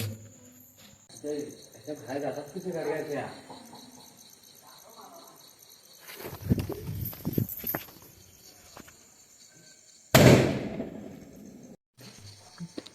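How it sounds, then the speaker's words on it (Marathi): At a traditional Tulsi Vivah wedding celebration in Konkan, a firecracker crackles and fizzes after being lit, then bursts with a single loud bang near the end. People talk earlier, and crickets chirp in the background. "हे एवढेच फटाके उरलेले आहेत तर एक लावूया"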